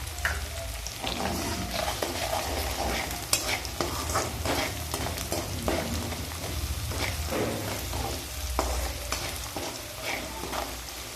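Garlic and green chili sizzle and fry in a pan for a village-style kardai bhaji, with a steady close crackle broken by repeated stirring scrapes.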